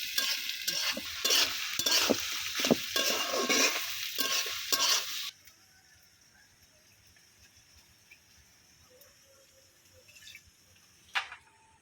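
Dried loitta fish frying with onion and garlic while a spatula stirs and scrapes the pan in rhythmic strokes. The loud sizzle cuts off partway and only faint kitchen sounds remain.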